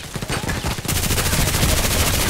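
Rapid automatic gunfire from the shooter game Contract Wars rattles out in a loud, continuous burst, with a steady fast rhythm that stays dense for the whole couple of seconds.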